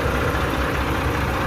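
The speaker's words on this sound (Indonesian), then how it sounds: "kalau bunyi mesinnya ini lebih sangar daripada mesin yang lain" A Euro 5 bus engine idles steadily in a Laksana-bodied coach, a deep, even rumble that stays loud and close throughout with no voices over it.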